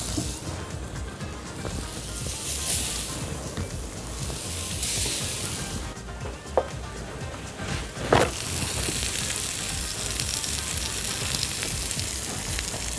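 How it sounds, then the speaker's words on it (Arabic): Salmon skewers searing in a lightly oiled pan give a steady, close broadband sizzle throughout, with a couple of brief clicks and no talking. "هحط عليها شويه زيت صغيرين خالص ونبتدي نشوي عليها السلمون."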